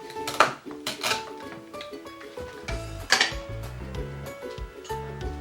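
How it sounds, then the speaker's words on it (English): A play kitchen knife slices a toy pumpkin, producing a few sharp plastic clacks and clicks over light background music. "Carefully cut to get the juice from the pumpkin."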